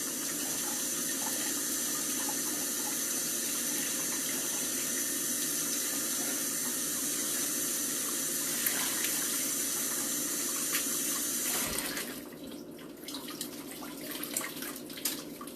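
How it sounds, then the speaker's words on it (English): Tap water running steadily over an Air Jordan 1 sneaker during rinsing, a continuous close splashing hiss that stops abruptly near the end, leaving faint drips and handling noises. "give it a rinse and it's done with this one"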